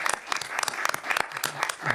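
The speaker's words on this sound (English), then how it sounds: "if we can give them a round of applause" An audience at a Board of Education meeting claps in a short burst of scattered applause, heard at moderate distance and fairly quiet.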